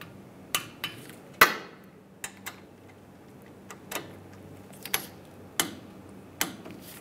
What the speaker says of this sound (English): now I'm going to torque these to 21 foot-pounds